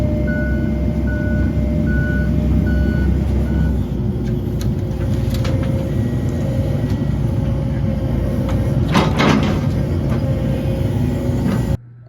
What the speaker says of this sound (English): Jeremy arrives with the dump truck